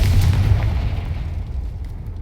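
In Hogwarts Legacy, the Confringo explosive spell bursts with a deep booming blast that rumbles and fades over about two seconds, loud and near.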